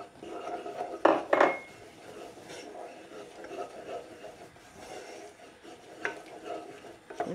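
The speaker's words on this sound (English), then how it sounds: "you just want to put the flour around in the butter just to take out the rawness of the flour" Flour is worked into melted butter in a pan, with a soft low sizzle, sharp utensil clinks against the pan early on, and intermittent quiet scraping and stirring.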